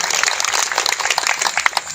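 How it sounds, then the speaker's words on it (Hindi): A crowd at a political rally claps loudly in a dense, continuous burst of overlapping hand claps lasting about two seconds, with no voice standing out. "एक बार मोदी जी के लिए जोरदार ताली बजाएं।"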